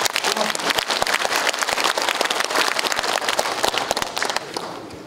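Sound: audience applause

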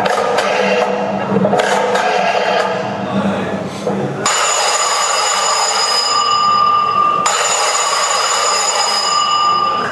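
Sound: cell phone ringing

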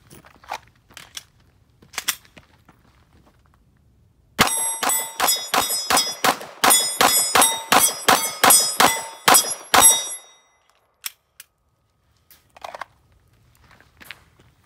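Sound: Glock pistol firing 15 rounds with aftermarket magazines

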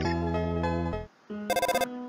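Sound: phone ringing with call from Toriel in Undertale video game

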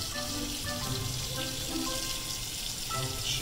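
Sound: water running from a faucet

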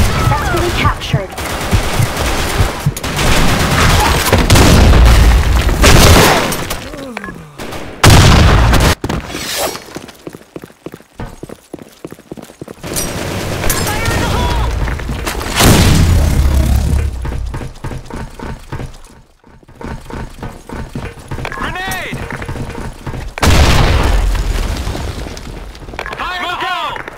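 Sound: grenade explosions in video game Blackshot

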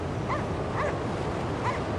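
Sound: dog barking in the video game Cryostasis

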